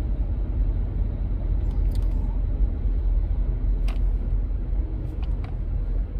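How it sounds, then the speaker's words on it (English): A 2020 Mitsubishi Eclipse Cross ES drives with a low, steady road rumble and engine drone heard from inside the cabin, a continuous dense noise with a few faint high clicks over it and no speech. "I can't keep these wheels from spinning."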